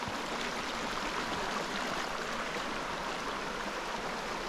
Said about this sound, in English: I'm just going to have a look at this creek crossing before we drive across it.